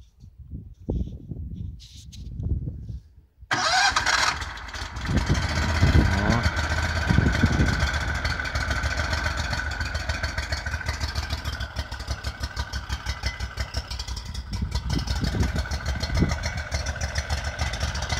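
A Lifan 24 hp engine on a homemade karakat with a Buran variator starts up after a few seconds of talk, then runs with a clattering mid-pitched drone and rising revs that continue steadily to the end.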